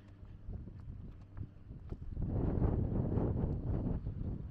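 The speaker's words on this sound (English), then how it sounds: "The wind is pushing me." Outdoors on a walk, wind rumbles and buffets the microphone, starting moderate and then building into a stronger, steady roar with no voices.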